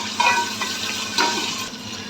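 Onions and tomatoes frying in a pan for pulav, a steady close sizzle with a couple of brief stirring scrapes, no talking.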